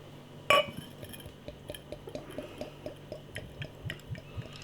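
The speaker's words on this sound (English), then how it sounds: "Let's get the beer out into a glass and see what we get." Belgian blond ale from a De Koninck bottle is poured into a glass: a sharp clink of glass on glass, then a soft, gurgling trickle with small bubbly pops, close and quiet, with no talking.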